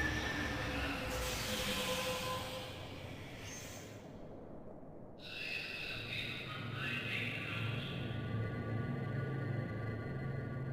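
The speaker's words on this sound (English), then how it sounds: "Yay, we got on the train!" A train runs in the adventure video game The Longest Journey, a continuous rumbling, hissing rail drone that briefly drops away midway and then resumes at a steady level, with no talk over it.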